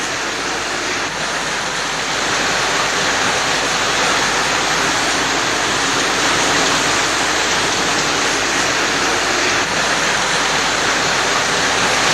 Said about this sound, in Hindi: पानी का तेज बहाव है, लोग परेशान हैं।